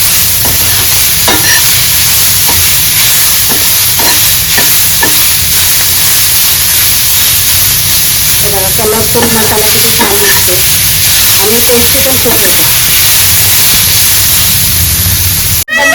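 Constant loud sizzling hiss of masala roasting in a hot pan for dried bombil (Bombay duck) curry, with occasional scraping stirs and brief crackles over the steady frying noise.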